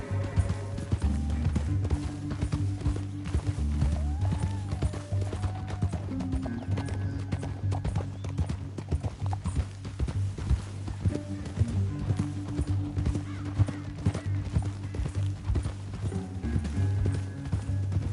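Rapid, steady hoofbeats of horses galloping in the video game Red Dead Redemption 2 pound continuously over a low rumbling background, with an occasional whinny and faint distant voices.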